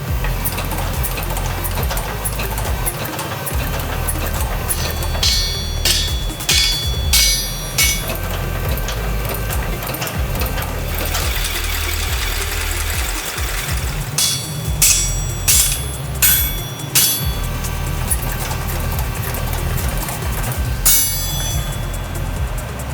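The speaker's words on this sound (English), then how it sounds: "Let's get a handle welded back on this and then continue forging this out" Heavy, repeated hammer blows as a Damascus steel blade made from old PlayStation parts is forged. The clanging strikes come in irregular bursts over a constant low workshop rumble.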